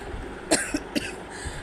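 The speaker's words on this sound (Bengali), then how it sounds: "আমারও এই জলটা ধরে ধরে কাশি হয়ে যাচ্ছে" Two or three sharp coughs, close and fairly loud, with a short throat-clearing sound between them over quiet background.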